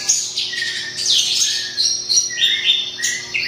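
A bushlark (beranjangan) sings loud and close in a sequence of high, clear chirps and whistled phrases with short gaps between them, heard alone without voices.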